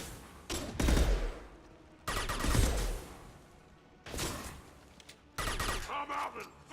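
Video game gunfire in a sci-fi battle against an invading force, heard as four loud, close bursts of rapid shots and bangs, each lasting about a second, separated by brief quieter gaps.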